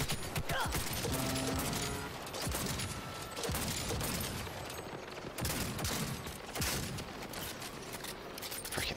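Dense bursts of gunfire in the video game Cyberpunk 2077, rapid overlapping shots and impacts crackling continuously throughout, loud and close.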